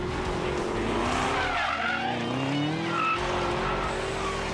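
A 2017 Callaway SC750 supercharged Camaro ZL1 driven hard around the twisty road course at Dominion Raceway near Fredericksburg, Virginia: a loud, continuous engine roar with sweeping pitch changes and sustained squealing tires through the corners.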